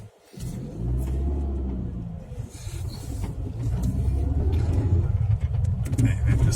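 A Mini's engine rumbles low and steady as the car reverses out in normal mode. The drone is close and grows a little louder partway through, and a person talks over it.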